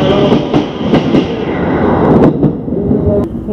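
A 2010-built Special Rapid Service train in Kansai, Japan, rumbles loudly along the rails from inside, with rhythmic clicks of wheels over track joints and a steady low roar.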